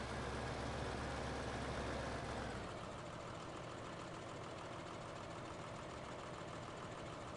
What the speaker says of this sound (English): So if we jump into the Sammy tractor, it should pull this header trailer without much issue.